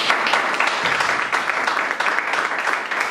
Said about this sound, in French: Acclamons très fort notre Seigneur.